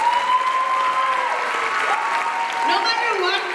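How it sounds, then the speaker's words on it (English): An audience at a Rangapravesam dance debut applauds for Deeksha, a sustained crowd clapping with light cheering while voices talk over it. "Give a big round of applause to my Deeksha."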